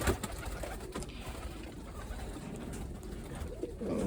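Pigeons coo softly and continuously nearby, with faint rustling and background noise throughout.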